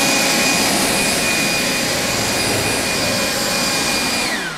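A forced-air blower dries a freshly spray-coated vehicle with a loud, continuous rushing roar that holds steady throughout, close to the listener, then tapers slightly at the very end.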